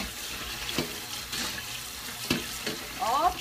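Cleaned fish being washed under a running tap, a steady close hiss of flowing water with a few splashy knocks and handling sounds on top, fairly soft.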